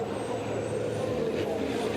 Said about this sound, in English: You can hear the turbochargers whistling away on these trucks.